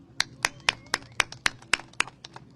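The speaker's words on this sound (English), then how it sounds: "Let's have a round of applause," A handful of people clap at an outdoor press event after a Supreme Court ruling on ICE raids, about nine sharp, spaced claps in a slow, uneven rhythm, fairly close and distinct rather than a full ovation.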